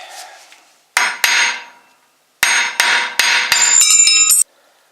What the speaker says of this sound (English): And start giving it a whack.